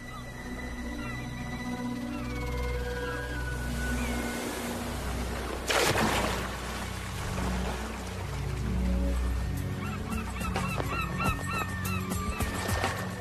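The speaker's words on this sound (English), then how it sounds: "Greater blackback gulls." Greater black-backed gulls call in harsh honking cries near an osprey struggling with a heavy fish catch, with a sharp burst of noise midway and rougher, choppy calls at the end over a steady low rumble.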